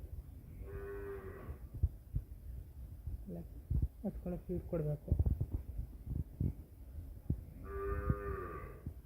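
Cattle on a green farm moo loudly twice, one long low call at the start and another near the end, with people talking in between over steady background noise.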